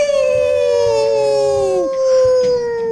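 A long, loud sustained howl plays as a sports radio sound effect, gliding slightly downward in pitch, with faint talk underneath.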